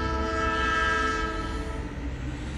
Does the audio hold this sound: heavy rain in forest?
no